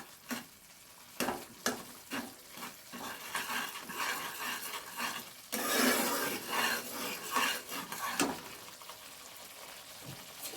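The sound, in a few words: sautéing vegetables with green peas in a pan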